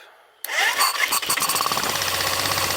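A BMW F650 GS motorcycle built from used parts, with ignition showing in the throttle body, cranks briefly, then catches and roars into a loud, close, steady running engine.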